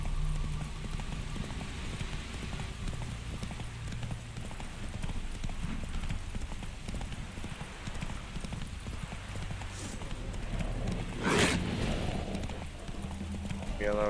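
In The Witcher 3, a horse's hooves clip-clop in a quick, continuous rhythm throughout, with a brief louder burst near the end over faint background ambience.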